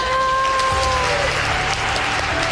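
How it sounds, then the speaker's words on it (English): Artists clap for one another in a portrait-painting competition studio, a steady wash of applause running throughout, with a few faint tones near the start. "The artists applaud each other."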